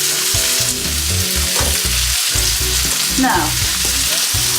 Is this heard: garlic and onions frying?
yes